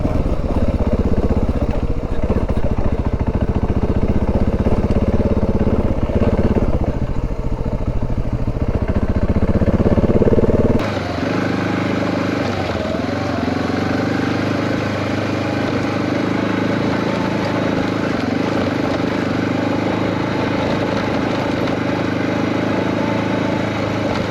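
A motorcycle engine drones steadily while riding through a firm, packed desert wash on the River Road in Big Bend National Park, with rough rumble and wind noise, shifting in tone partway through, no talking.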